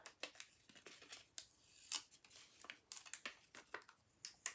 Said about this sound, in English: I'll peel off the Post-it note.